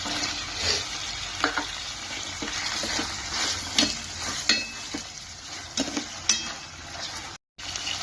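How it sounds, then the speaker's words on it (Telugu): Beans and carrots stir-fry in hot oil for egg noodles, a steady close sizzle broken by the clink and scrape of a spatula against the pan at irregular intervals, with no talking. "బీన్స్ని ఒక 30 సెకండ్ బాగా ఉడికించుకోండి. నెక్స్ట్ క్యారెట్ వేసుకోండి."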